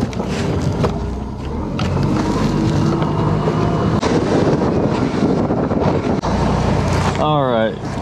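A fishing boat runs across Lake Pontchartrain with loud, steady engine roar, hull noise and wind buffeting the microphone, ending with a short rising whine.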